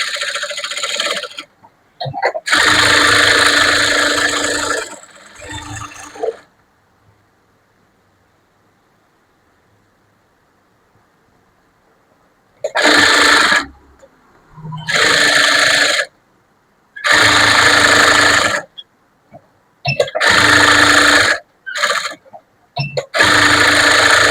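A sewing machine stitches a lining blouse, running a seam around the edge along the measured line. Loud bursts of stitching come in two groups with a long quiet gap between them, and no voices are heard.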